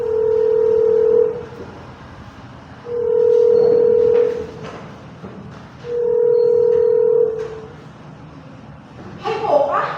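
A phone ringing on an outgoing call to friends, a steady tone repeating three times in long pulses with gaps between, close and clear, with a voice talking quietly near the end.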